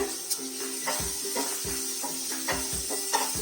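Medium-sized onion frying and softening in a pan for spicy pasta, with a steady soft sizzle and hiss close by and occasional stirring scrapes at a regular pace, and no voices.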